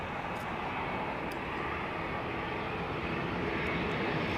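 An airplane comes in low to land over a fence, its engine a steady, loud broadband roar held throughout without a break.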